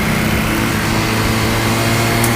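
A Zipp Raven Lux 125 motorcycle engine runs steadily while riding, with a close, loud, continuous buzzing drone and layered harmonics at an even pitch throughout.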